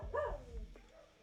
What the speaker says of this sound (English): What an aggressive barking we have going on today.